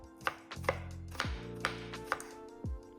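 A knife thinly slicing red onion on a cutting board, about half a dozen crisp, evenly paced chops close up with no talk.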